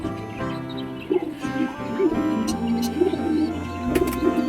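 A male pigeon with black back and tail, a local breed, coos repeatedly up close in a loft, rolling calls rising and falling among other birds.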